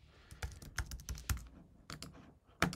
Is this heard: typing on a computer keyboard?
yes